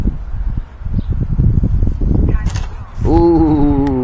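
Gusty wind buffets a microphone outdoors on a windy day at a model airplane flying field, loud rumbling bursts followed by a small electric plane's rising whine close by.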